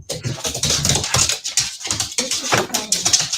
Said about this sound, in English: What the heck is going on with that dog?